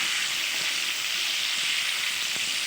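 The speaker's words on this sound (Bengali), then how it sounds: "এবার খুব ভালোভাবে নেড়ে চেড়ে এঁচোড়গুলো আমি ভেজে নেব" Young jackfruit pieces with salt and turmeric fry in a pan on a medium flame, giving a constant, close hiss of sizzling with faint, occasional stirring scrapes and no speech.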